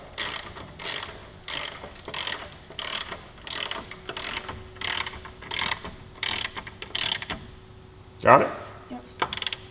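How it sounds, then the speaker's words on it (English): A torque wrench tightens a part during a Driven Endurance Cups install on a sportbike, giving a steady series of about a dozen sharp ratcheting clicks at an even pace, followed by a brief clunk, with short spoken exchange. "Click goes the torque wrench"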